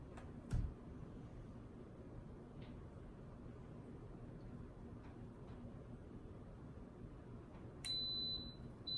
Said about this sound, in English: Says on and it's beeping, so we're good to go.